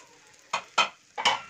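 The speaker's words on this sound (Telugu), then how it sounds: "సో కొబ్బరి అనేది కూడా మనకి లో ఫ్లేమ్లోనే ఫ్రై చేసుకోవాలి" Grated coconut fries on a low flame in a pan for ravva laddu, with three short, close scraping stir strokes at an uneven pace over a faint background.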